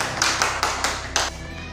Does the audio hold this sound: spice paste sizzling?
no